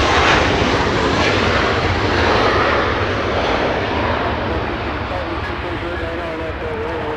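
Boeing 737 airliner pushing back at Los Angeles International Airport: a steady, loud jet engine whine and rumble lasting several seconds, with someone talking over it.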